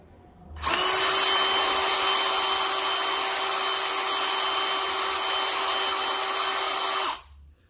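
A DeWalt DCD999 cordless drill runs at speed setting 1 with the trigger fully pressed, spinning up sharply into a loud, steady, high-pitched whine that holds for about six seconds before cutting off.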